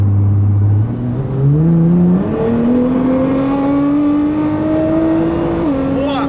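Nissan GT-R tuned to 735 hp accelerating hard on a road, its engine note climbing steadily through several gear changes, loud and close from inside the car.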